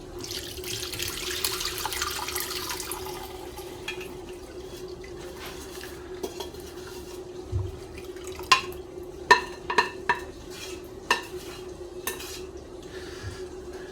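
Chicken stock being poured and strained through a sieve in a kitchen, a gentle running-water trickle followed by a series of clinks and taps of metal utensils against the pot and sieve, no talking.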